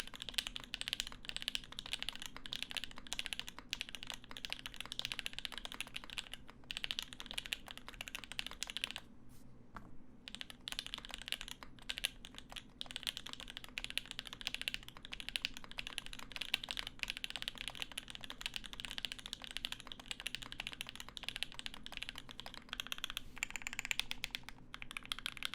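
Rapid, steady typing on a Percent Studio Skog-Reboot prototype mechanical keyboard with an aluminum case, a close, crisp, quiet run of key clacks with a short pause midway and no talk.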